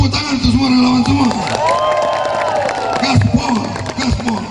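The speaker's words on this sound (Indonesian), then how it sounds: "Tepuk tangan untuk semua relawan semua." A loud crowd at an Indonesian election campaign rally in Lampung cheers and claps, with shouts and whoops rising over a dense wash of noise and a voice calling out through it.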